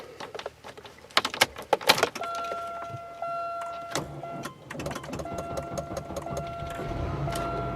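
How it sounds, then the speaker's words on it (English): A key jangles and a 1998 Buick Park Avenue engine starts, followed by a steady idle with a faint whine from accessories, heard close and moderately quiet. "Started up pretty good, actually."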